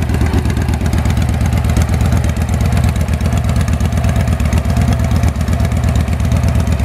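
Engine of a Victory-powered Sno Cat running steadily, a loud close rumbling idle with rapid regular firing pulses and slight mechanical clatter throughout, with no voices.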